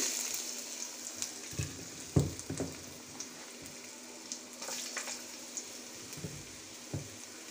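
Green chillies split down the middle and chopped ginger sizzle in mustard oil in a curry cooker, a steady close crackle with a few sharper pops and spatters, no talking.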